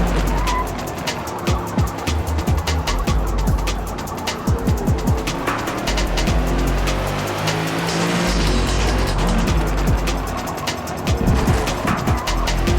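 BMW M8 GTE race car in a sim racing game at Brands Hatch, its engine roaring loud and continuous with revs rising and falling through gear changes, tyres squealing in corners, and other cars' engines audible around it.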